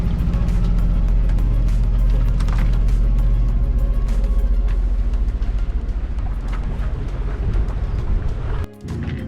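A sailboat motor sailing under engine power toward an anchorage in Florida, giving a loud, steady low engine drone with broadband rumble and water wash. The drone briefly cuts out near the end, then resumes.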